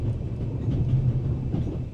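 A train rolls along in the point-and-click game The Raven, making a steady low rumble for two seconds with no talking over it.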